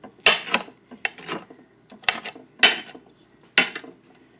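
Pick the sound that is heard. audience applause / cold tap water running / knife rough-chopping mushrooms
knife rough-chopping mushrooms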